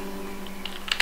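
A computer keyboard is typed on briefly, a few soft, quiet key clicks ending in a quick cluster over a low steady hum.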